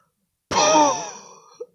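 A voice imitates a character's heavy, raspy breathing before collapsing: one long strained exhale that fades out, followed by a short catch at the end, close and alone.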